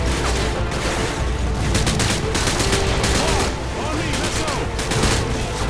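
Video-game gunfire in Modern Warfare 2, a dense, loud barrage of rapid shots and bursts with crackling impacts throughout, while someone talks over the battle.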